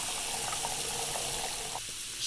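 Water pours steadily into a glass jug in a pizzeria cooking simulator game, a continuous hissing tap stream that fills the jug without pause.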